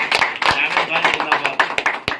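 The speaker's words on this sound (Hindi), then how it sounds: "तो चीफ एडिटर एम जे खान साहब के लिए भी जोरदार तालियां" Applause from a ceremony audience honouring chief editor M J Khan, a steady close patter of many claps with sharp individual hand strikes throughout.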